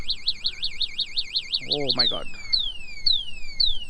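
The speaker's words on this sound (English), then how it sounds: "So now the anti-theft alarm is working." A PURE EPluto 7G electric scooter's anti-theft alarm wails in a rapid warbling siren, then switches to a repeating series of sharp descending chirps. A voice briefly exclaims midway, close by.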